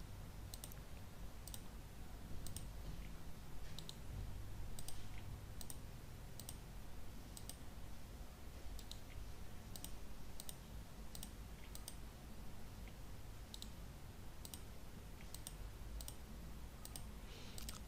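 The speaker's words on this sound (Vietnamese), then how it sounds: "các bạn chuột phải thôi" Mouse right-clicks while building a checklist in an Excel spreadsheet: sharp, isolated clicks at an irregular pace over a low background hum, no talking.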